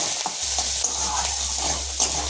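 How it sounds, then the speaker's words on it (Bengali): Dal is tempered with spices sizzling in hot oil, a close, continuous crackling hiss broken by a few light scrapes and clinks of stirring. "তো তার আগে আগে ডালটা ফোড়ন দিয়ে নিই।"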